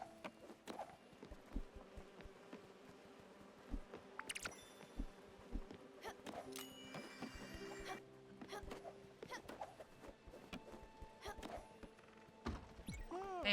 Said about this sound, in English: Ooh, the bees.